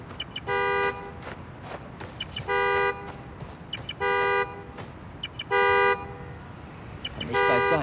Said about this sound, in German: Ich muss hinhören und dem Hupen folgen.